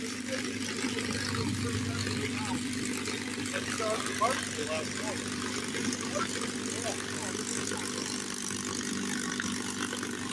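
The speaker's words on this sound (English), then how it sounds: "looks like we're going to get Mustang Run-Up right here in front of us" A P-51 Mustang runs up its propeller engine at the Oshkosh 2025 fly-in, a steady, throaty drone nearby with a slight swell midway and voices talking over it.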